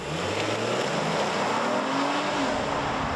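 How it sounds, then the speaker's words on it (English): A 2024 Honda Pilot TrailSport's V6 engine revs up and accelerates with a low, rising growl, loud and close, with road noise underneath. "there's a nice subtle V6 growl when you put your foot into the throttle"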